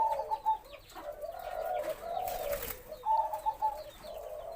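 Young white doves coo in soft, repeated rolling calls from close by, the low throaty phrases overlapping and pausing, with faint background noise.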